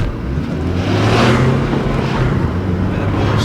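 A BMW 3 Series car with a worn clutch accelerates hard from 0 to 60, its engine note a steady loud drone that swells and rises as it pulls, heard from inside the cabin.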